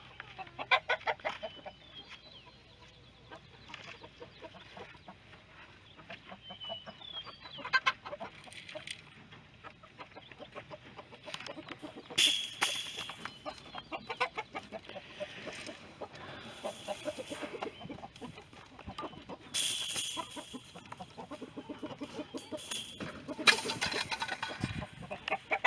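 A flock of hens and roosters clucks and squawks on a farm during a move, with many overlapping calls near and far over a long stretch and some louder bursts of agitated flapping and shuffling, with no talking.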